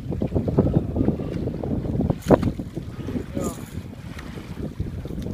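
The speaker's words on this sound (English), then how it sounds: "like 25-30 mile an hour winds" Strong 25–30 mph wind buffets the microphone on a lake during a bass fishing outing, a steady low roar with gusty rumbles throughout and a brief louder burst midway.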